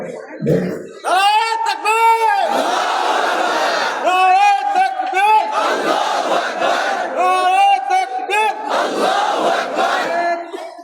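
A large crowd at an outdoor Bengali religious sermon gathering shouts a slogan in unison, loud, sustained voices rising and falling in repeated waves for several seconds.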